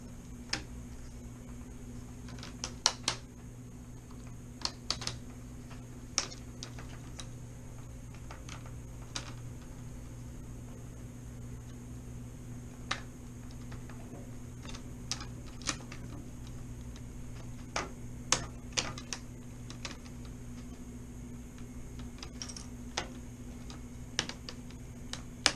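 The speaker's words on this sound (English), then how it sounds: "work your way around the edge, prying up so you can pull the bezel out" Plastic clips snap and tick at irregular intervals as a bezel is pried off a Dell Latitude E7440 laptop screen, sharp close clicks spread over a steady low electrical hum.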